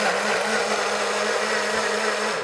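A kitchen blender grinds seasoning for persimmon bulgogi in one loud, steady, continuous whir from start to finish, with no talking.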